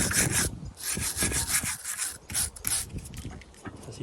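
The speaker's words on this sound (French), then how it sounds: "Donc toujours la brosse de fer." Wire brush scrubbing the rear brake pad slides on a Volvo V40 caliper bracket, a close, loud, continuous rasping in rapid back-and-forth strokes with short pauses, no talking.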